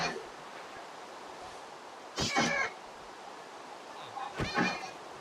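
Cats meowing in the video game Minecraft: two short, slightly wavering meows a couple of seconds apart over a steady hiss of background noise, fairly close and moderately loud.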